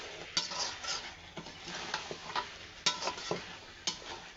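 Potatoes sautéed in a pot with meat, a soft continuous sizzle under repeated spoon scrapes and metallic clinks against the pot at an irregular pace.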